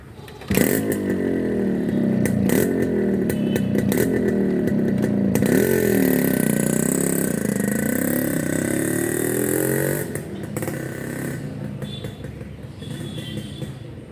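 A Yamaha RX 135 two-stroke motorcycle on a test ride, its engine loud and close with a rasping buzz that rises and falls through repeated revs, then drops to a lower idle near the end.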